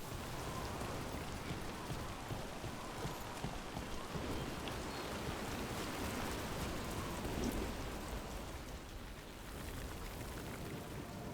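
Steady heavy rain pours down continuously in the video game Dragon Age: The Veilguard, a dense hiss of drops with no voices, dipping slightly near the end.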